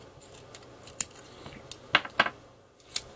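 Scissors trimming picket fence washi tape for a planner: a handful of sharp, close snips and clicks scattered unevenly over a quiet background, with no talk.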